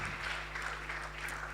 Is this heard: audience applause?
yes